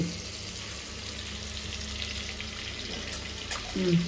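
Garlic frying in a pan on a home stove while Gongura gravy is being made, a steady close sizzle and hiss running throughout with a brief louder clatter near the end.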